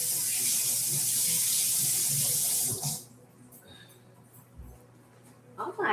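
Tap water runs from a kitchen faucet over shrimp being rinsed, a loud steady rush for about three seconds that stops abruptly, followed by quiet handling clatter and a brief clunk.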